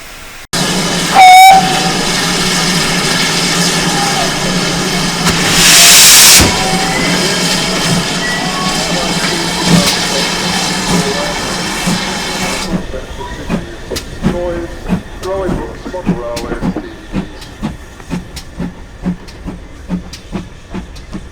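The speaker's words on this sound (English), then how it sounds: "The engine moved forward through the station, under the overbridge, and then reversed back onto the front of the train" The steam locomotive Bahamas hisses and rumbles loudly at a station, with a sharp whistle blast, then chuffs in a slow, irregular rhythm as it moves off and reverses onto its train.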